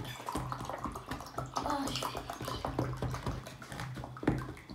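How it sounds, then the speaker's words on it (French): A cup of water is poured into a mixing bowl for no-cook modeling dough, a continuous close splashing trickle with people talking over it. "Vous allez mettre une tasse d'eau dedans."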